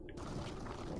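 Water drains away in Legacy of Kain: Blood Omen 2 with a loud, steady gushing rush that fills the whole short moment.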